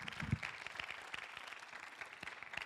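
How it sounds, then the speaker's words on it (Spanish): A church congregation applauds during a sermon, a moderate wash of clapping heard from a distance and fairly faint, with a brief low vocal sound near the start. "Give a big applause to the Lord."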